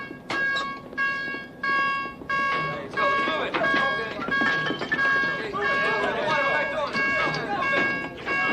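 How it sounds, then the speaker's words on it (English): A submarine's general alarm sounds for battle stations: a loud, steady run of repeated buzzing tones under overlapping crew voices. "Sound the general alarm."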